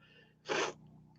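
A single sharp sneeze bursts out close to the mic, loud against a quiet indoor background, with a faint breath around it.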